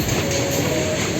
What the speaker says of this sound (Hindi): बगल से भारतीय रेल गुजरते हुए